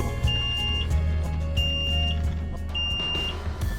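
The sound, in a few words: alarm sounding on a boat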